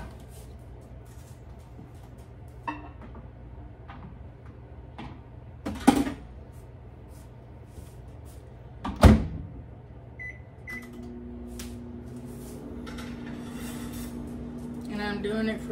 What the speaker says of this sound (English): I'm gonna throw it in the microwave and we're gonna melt it.